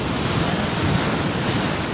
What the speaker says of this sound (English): look at the size of that wave, Sam.